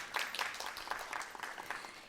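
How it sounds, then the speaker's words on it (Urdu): An audience gives a guest of honour a warm round of applause at a Women's Day special program, faint, scattered clapping in uneven bursts that rises and falls, with no clear speech over it. "بھرپور تالیوں میں میم کو آپ ویلکم کہیے."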